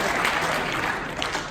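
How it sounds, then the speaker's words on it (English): Audience applause fills a performing arts hall after Geddy Lee shows his first Rickenbacker bass, a steady dense wash of clapping sustained throughout at moderate level. "Yes, let's applaud the bass."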